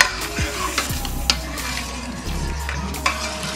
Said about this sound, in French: Je vais continuer à tourner jusqu'à ce que l'huile sorte